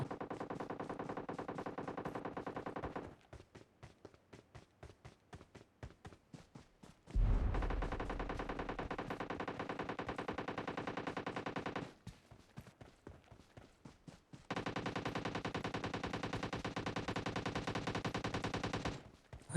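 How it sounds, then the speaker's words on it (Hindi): Automatic-rifle fire in a PUBG-style battle-royale shooter, long sustained bursts alternating with sparse single shots, one heavy low impact at the start of the second burst, moderately loud and close. "वो गोलियां चलाने लगता है"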